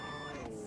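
A repeating warning beep in the Initial D Extreme Stage racing game for PS3, tied to the RX-7 FD, sounds as steady high tones layered over engine drone, continuous and fairly loud through the short moment.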